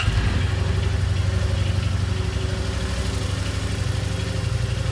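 A 2018 Yamaha Wolverine 850 side-by-side engine runs at a steady, close idle with a low, throbbing rumble and a faint rise in revs. No one speaks.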